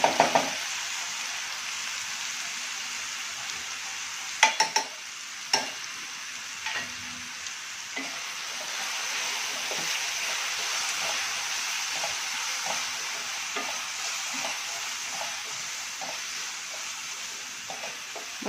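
Onion and tomato sauté in a hot pan for matar paneer bhurji, giving a steady close sizzle and frying hiss with scattered knocks and scrapes of a stirring spoon against the pan.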